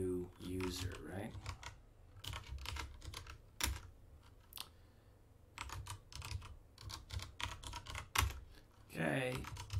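Someone types a password on a computer keyboard, a run of close, crisp key clicks in bursts with short pauses, and a voice speaks briefly at the start and end.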